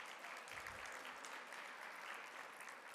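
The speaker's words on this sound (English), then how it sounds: "We're going to clap it up for them as well." A gala audience applauds sponsors, and the soft, continuous wash of many hands clapping stays even and faint, as if heard from across a large hall, for about three seconds.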